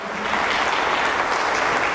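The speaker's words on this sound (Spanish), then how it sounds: "Dale un aplauso al Señor" A church congregation applauds during a Sunday sermon, a short burst of full, steady clapping from many hands with no talking over it.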